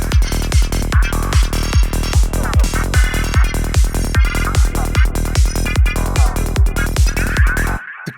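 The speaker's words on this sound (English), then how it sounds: "Crazy psychedelic sounds we just got from adding Chris Glitch to this patch we've just made." Psytrance synth patch derived from noise, run through the Chris Glitch plugin, churns over a driving kick pulse with rapid stuttering, chopped textures; loud and dense before stopping abruptly near the end.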